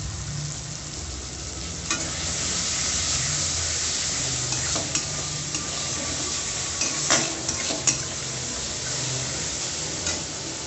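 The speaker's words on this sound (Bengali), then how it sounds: "টমেটোটাকে ভালো করে ভেজে নেব।" Tomatoes fry in a pan with salt and turmeric, a steady close sizzle broken by scraping spatula strokes and occasional clinks against the metal.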